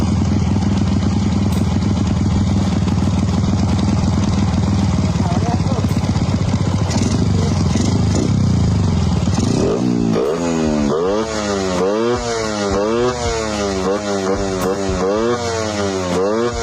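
A Honda motorcycle engine idles with a steady loud rumble, then revs up and down in repeated rising and falling surges, while people shout excitedly nearby.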